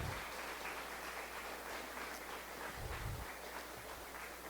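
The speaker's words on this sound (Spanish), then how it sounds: "¿Por qué no le damos un aplauso al Señor?" A church congregation applauds together during a Spanish-language service, a steady broadband wash of clapping sustained throughout at moderate, somewhat distant level, with a few low thumps underneath.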